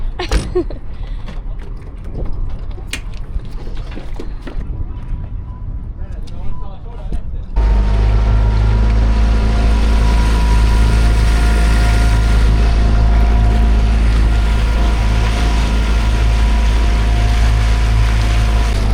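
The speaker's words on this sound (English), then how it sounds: "It's my first ride in the new dinghy." A new dinghy with an outboard motor starts partway through, running as a loud, steady engine drone with wind buffeting, after a quieter stretch of background voices and movement near the boat.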